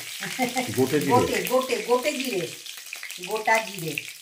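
Whole cumin seeds and a bay leaf sizzle in hot oil, a steady close crackle that runs throughout while a voice talks over it.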